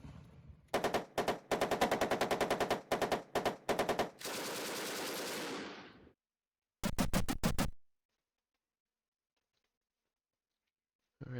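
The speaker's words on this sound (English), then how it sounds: "Machine gun." Machine gun fire in the video game Armoured Commander II, several loud rapid bursts followed by a sustained stream of fire, then one last short burst before silence.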